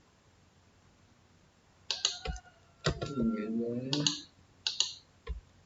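Keyboard shortcuts for copy and paste pressed while editing code: a few close, sharp key clicks scattered among quiet pauses, with someone talking in Indonesian in between.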